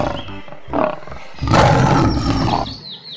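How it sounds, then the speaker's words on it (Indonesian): A toy tiger gives a loud electronic roar close by. Short growling bursts build into a long, sustained roar, which ends in a tinny electronic squeal. "Ini adalah harimau."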